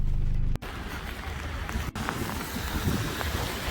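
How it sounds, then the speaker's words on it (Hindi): Steady rain falls outdoors, a dense hiss of drops on surfaces with a little wind, fairly close and continuous, with a brief interruption early on and no talking. "तो बारिश हो रही है"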